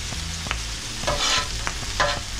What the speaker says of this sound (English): Move around your onions and peppers